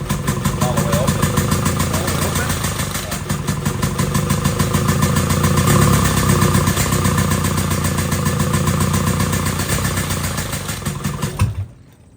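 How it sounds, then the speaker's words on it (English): A 1975 Honda Civic CVCC engine with a new carburetor runs hard at full throttle, a loud, rough, rapidly pulsing roar sustained throughout before cutting off abruptly near the end. "I was holding the carburetor full throttle to get it to stay running"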